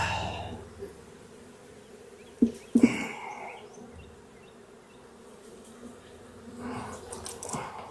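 A wild honey bee colony hums quietly at an opened hive, a soft continuous buzz with a couple of brief knocks partway through and no talking.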